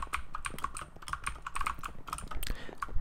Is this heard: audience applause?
no